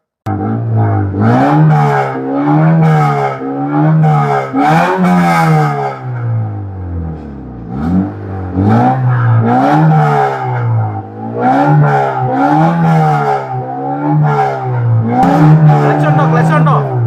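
A modified vehicle with no working clutch and a bottle fitted over its gear lever revs loudly and close by, its engine pitch surging up and down in repeated waves for the whole stretch, with voices mixed in.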